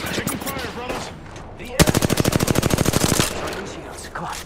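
Rapid automatic gunfire from an Apex Legends match, a loud close burst of about twenty evenly spaced shots lasting over a second, with game voice lines and battle noise around it.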